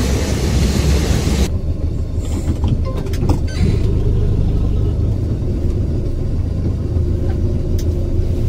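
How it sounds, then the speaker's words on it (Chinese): A train on the Qinghai-Tibet Railway rumbles past close by, a loud continuous rolling roar of rail wagons lasting the whole stretch. "火车来了。"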